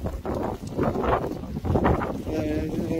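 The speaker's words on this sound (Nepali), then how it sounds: "आजको दिन चाहिँ हावा एकदमै लागिरहेको छ।" Strong wind gusting across the grounds outside the Sri Siva Vishnu Temple in Lanham, Maryland, producing a loud, continuous low buffeting rumble against the microphone, with muffled voices underneath.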